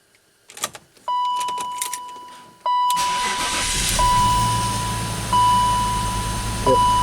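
A BMW X5 with a misfire cranks and starts up close: key jangles and a dash chime lead into the engine catching and settling into a steady idle, with a repeating warning tone over it.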